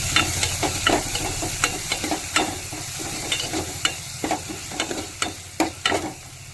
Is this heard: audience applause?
no